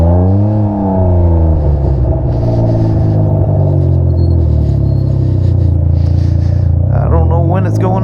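A 2021 Can-Am Ryker with a loud aftermarket rally exhaust idles close by, running full rich with a deep, lumpy, uneven rumble. It blips louder and rougher near the end.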